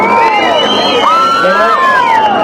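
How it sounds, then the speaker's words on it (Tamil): A street-event crowd at Happy Street in Trichy cheers loudly, with shrill whistles sliding over a dense roar of voices and clapping for a couple of seconds, close and energetic. "நீங்களே எல்லாரும் ஒரு பெரிய ஒரு கைத்தட்டல் கொடுத்து ஒரு விசில் ஒன்று கொடுத்துருங்க"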